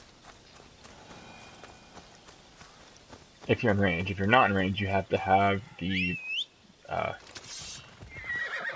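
A summoned horse in Assassin's Creed Odyssey approaching, with hoof clip-clops and a loud whinny in the middle, followed by lighter hoofbeats, while someone talks quietly over the early part.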